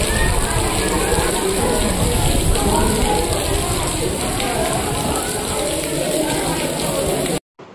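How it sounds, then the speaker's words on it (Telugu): A heavy, non-stop downpour near the Talakaveri temple in Coorg makes a dense, loud, unbroken roar of rain that cuts off abruptly near the end. "నాన్ స్టాప్గా వాన పడుతూ ఉంది"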